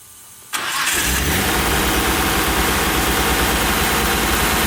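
An HKS crate engine in a Nissan R33 GTR with individual throttle bodies cranks briefly and catches, then settles into a loud, steady high idle with no talking.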